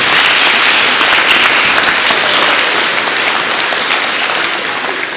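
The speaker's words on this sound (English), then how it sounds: "let's give them all another round of applause" Loud, dense applause from a school assembly crowd at an intermediate school's Veterans Day celebration, honoring the school band, a continuous roar of clapping that tapers slightly at the end.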